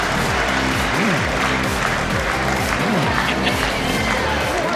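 A boxing crowd at a welterweight fight roars, applauds and cheers continuously, loud and dense, with a commentator's voice faintly underneath.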